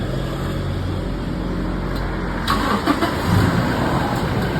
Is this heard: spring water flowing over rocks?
no